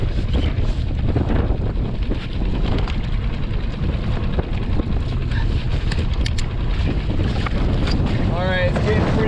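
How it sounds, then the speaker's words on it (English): Steady, loud wind buffeting on choppy open sea off Central California, with rough broadband rumble and splashing from a small fishing skiff throughout, no clear speech. "it's getting pretty windy, pretty choppy"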